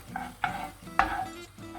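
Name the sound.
peppers sautéing in oil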